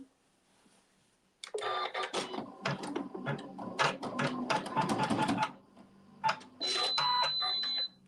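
A sewing machine stitches a tack down in short mechanical bursts of needle chatter, stopping and starting, with quiet pauses between runs.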